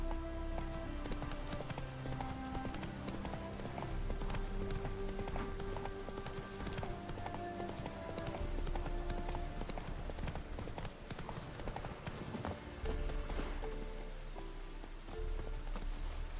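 Horse hooves clip-clop steadily in Witcher 3 on Skellige, a quick regular trot heard close, mixed with falling rain and game ambience, and no one speaks over it.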